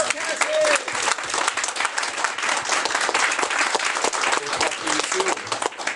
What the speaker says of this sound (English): applause for Cassie